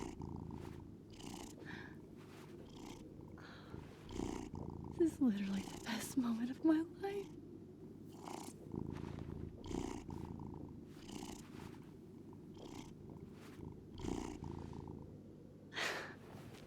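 A cat purrs in Life is Strange Double Exposure: a steady, low, rumbling purr runs continuously beneath someone talking over it throughout.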